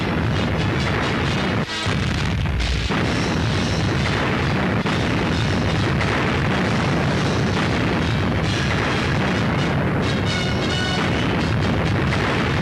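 Bomb explosions in wartime newsreel footage from the African campaign, a loud, dense, continuous roar of booming blasts and rumble, heavily saturated and distorted old soundtrack with no speech.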